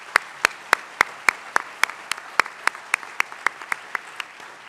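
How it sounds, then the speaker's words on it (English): Crisp, evenly spaced hand claps ring out at a Saint Johnsbury Academy school assembly, a steady rhythm of about three sharp claps per second sounding clearly over a quiet hall. "Let's give them all a round of applause."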